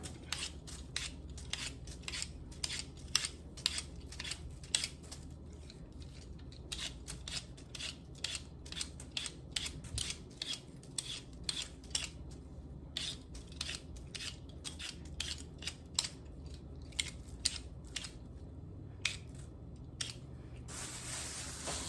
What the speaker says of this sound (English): I use a peeler to get them all cut